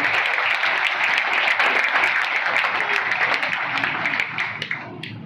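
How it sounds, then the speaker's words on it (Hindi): A congregation applauds after a testimony, vigorous close clapping with sharp individual claps standing out, fading and thinning toward the end. "जोरदार ताली हो जाएंगे गवाही के लिए"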